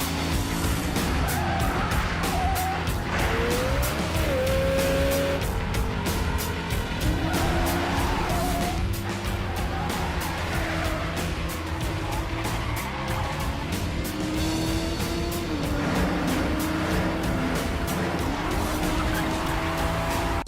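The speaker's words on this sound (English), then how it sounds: "We can't talk about John Wick without mentioning the incredible driving scenes" A car skidding during a high-speed driving scene in a John Wick action film, with tires squealing in rising and falling whines over a roaring engine, loud and continuous amid rapid clattering impacts and racing passes.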